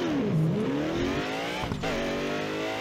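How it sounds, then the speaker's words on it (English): A race car boost sound effect from the video game Burnout Paradise Remastered whines up and down in pitch, then surges with a loud, sustained roar, close and continuous. "this car has a really awesome sound effect that plays whenever you have a successful boost"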